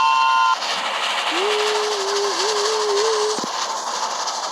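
A train in a video game gives a steady, whistle-like tone for about two seconds over a continuous steamy hiss, ending in a short thump.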